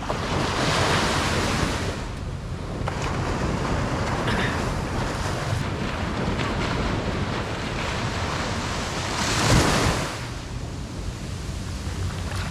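Ocean surf at high tide on a beach in Botolan, Zambales, Philippines: a steady, loud wash of breaking waves with heavy wind rumble on the microphone and a stronger surge near the end, with no voices.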